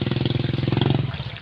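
A motorcycle engine chugs close by near a river, with a steady rapid pulsing idle that fades slightly toward the end.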